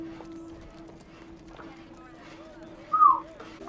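Horses' hooves clip-clop in a TV drama scene of a gathering of survivors, a steady clatter sitting under continuous voices and a brief louder swell near the end.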